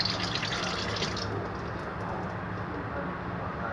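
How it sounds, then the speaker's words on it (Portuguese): Water poured out of a small pot splashes and pours in a steady, continuous stream, fairly close and moderately quiet, with no voices. "Eu vou pegar um potinho aqui e vou derrubar toda a água aqui do lado"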